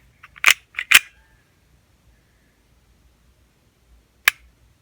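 Sharp trigger reset clicks from a Canik TP40V2 pistol: a quick cluster of three or four crisp snaps close up, then a single isolated click a few seconds later, with near silence between.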